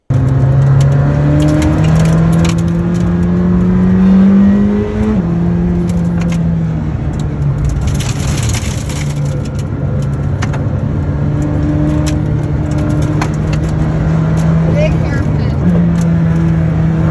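A McLaren Senna engine roars loudly, its pitch climbing through gear changes as it accelerates past in the canyons, then settles into a steady drone.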